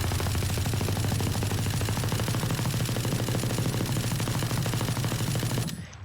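Sustained automatic fire from the Ares machine gun in Valorant, a loud, rapid unbroken stream of shots lasting about five and a half seconds before cutting off abruptly.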